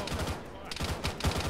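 Rapid bursts of gunfire in a military shooter game, a steady clatter of repeated shots with louder bursts toward the end, with radio voices talking faintly underneath.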